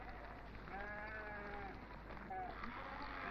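A flock of sheep awaiting shearing bleat a few times at moderate distance, wavering calls rising over a steady background hum, with a pause between the bursts.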